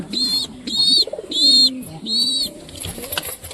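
Pigeons in a loft give a steady run of close, repeated coos and soft calls, with no talking over them.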